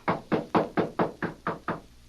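Eight steady, evenly spaced knocks on a door, firm and close, with no voices.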